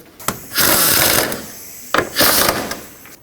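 Two short bursts of ratcheting come from a hand ratchet tightening mounting bolts on a Chevy Express van, close and clicky, separated by brief pauses with a few metallic taps.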